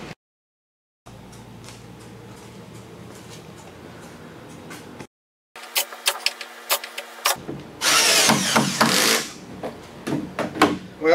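A power tool cuts biscuit slots into scrap-lumber boards for a coffee table top, with bursts of motor whine and harsh cutting noise separated by brief silences, loudest and most intense near the end.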